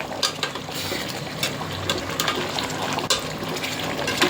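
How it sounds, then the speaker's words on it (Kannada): Water poured from a glass into a pot of half-cooked chicken biryani with oil, a sizzling, splashing gush with a few sharp clinks, loud and close with no talk. "ಇದಕ್ಕೆ ನಾವಿವಾಗ ಒಂದು 3 ಗ್ಲಾಸ್ ನೀರು ಹಾಕ್ತೀನಿ."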